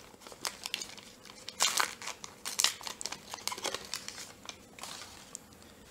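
The wrapper of a 1990-91 Upper Deck hockey card pack crinkles and crackles up close as it is torn open, with quiet irregular rustles rising into a few sharper crumpling bursts, and no talking.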